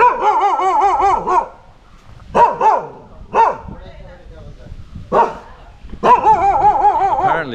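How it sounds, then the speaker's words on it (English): Neighborhood dogs bark loudly in close, clustered bursts with short gaps between volleys, while people talk over the barking. "Friendly dogs in this neighborhood."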